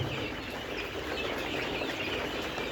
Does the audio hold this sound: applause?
no